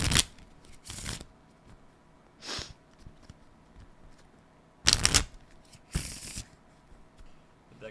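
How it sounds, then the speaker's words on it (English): A deck of tarot cards riffled and shuffled in several quick, crisp bursts separated by pauses, close up and fairly loud against a quiet background. "Deck shuffling ASMR every time."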